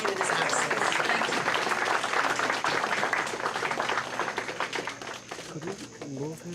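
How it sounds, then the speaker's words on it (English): Audience applause for an absent honoree at an evening gala, steady clapping that gradually thins and fades while a voice speaks over the end. "Let's get a round of applause for him in his absence"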